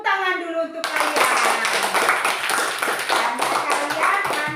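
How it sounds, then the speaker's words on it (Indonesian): Children in a classroom clap their hands together in quick, rhythmic bursts that fill the room, with a teacher's voice speaking over and between the claps. "tepuk tangan dulu untuk kalian."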